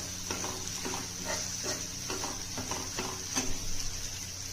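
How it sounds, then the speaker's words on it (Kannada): Coriander leaves, curry leaves and tomato frying in a pan over medium heat make a soft steady sizzle broken by regular scraping stirs of a spatula, no talking. "ಕೊತ್ತಂಬರಿ, ಕರಿಬೇವು ಮತ್ತು ಟೊಮೆಟೊ ಎಲ್ಲ ಚೆನ್ನಾಗಿ ಫ್ರೈ ಆಗಬೇಕು."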